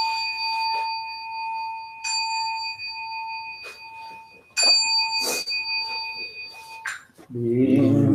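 A meditation bell rings out clearly several times at the close of a Zen dharma talk, each strike leaving a long sustained metallic tone that slowly fades, followed by low murmuring voices at the end.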